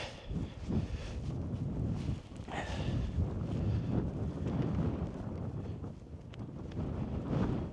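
Strong wind at a rocky, exposed campsite with a tunnel tent pitched nearby. It buffets the microphone in a continuous loud roar with gusty surges and no clear voices.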